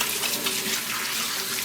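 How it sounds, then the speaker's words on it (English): Hands washed under a running kitchen tap, a steady close hiss of flowing water splashing into a sink, continuous and fairly loud with no talk. "I'll wash my hands."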